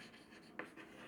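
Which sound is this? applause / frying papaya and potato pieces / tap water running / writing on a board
writing on a board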